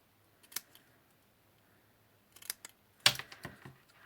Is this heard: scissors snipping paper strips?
yes